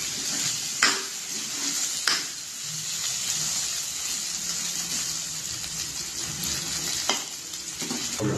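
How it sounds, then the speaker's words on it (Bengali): Potatoes fry in a pan with a constant bright sizzle while being stirred, and a few sharp scrapes and clinks of the utensil stand out above the steady hiss. "আলুগুলো একটু হালকা সরে করে নেবেন।"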